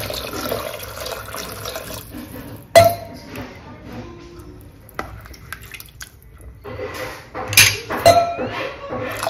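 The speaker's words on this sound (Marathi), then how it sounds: "एक तांब्या पूर्ण पाणी टाकते." Water from a full jug poured into a pot of curry, heard as splashing and trickling with clinks of metal against metal, interrupted by pauses and a sharp knock before pouring resumes.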